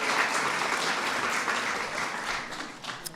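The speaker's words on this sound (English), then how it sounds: "So please give them a big round of applause." An audience at an Eid al-Fitr reception gives a big round of applause, a full, even roar of clapping that holds steady throughout and thins slightly near the end.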